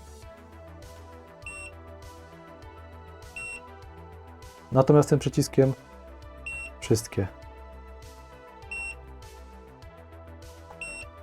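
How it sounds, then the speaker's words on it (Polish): Short electronic beeps from a MUSTOOL MDS120M portable oscilloscope repeat at a regular pace, faint and steady, while someone speaks briefly in Polish in the middle. "Jak wyłączyć to irytujące pikanie"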